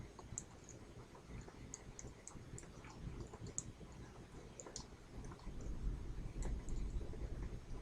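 Steady clicking of computer keys and mouse buttons while renaming a worksheet in Excel, a quiet run of light taps and ticks with no talk.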